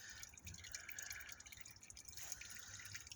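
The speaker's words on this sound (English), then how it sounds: "You're gonna see oil dripping," Motor oil drips from a 2007 Mazda CX-9 during an oil change, landing in a few soft, scattered drops over a quiet, faint background.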